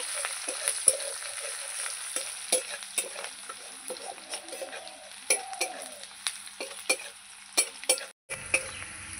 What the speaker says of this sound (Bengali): পেঁয়াজ দিয়ে কিছুক্ষণ নাড়াচাড়া করে পেঁয়াজটা ভেজে নেব